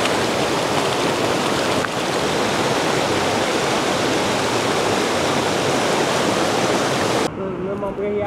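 River water flows at Sungai Kenerung in southern Thailand as a loud, dense, continuous rush that fills the whole stretch, then drops away abruptly near the end.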